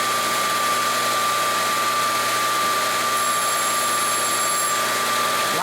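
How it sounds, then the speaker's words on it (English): A precision spindle grinder runs smoothly and continuously, a loud steady high-pitched whine with an even motor hum and no break, heard alone up close. "the grinder is running much more smoothly"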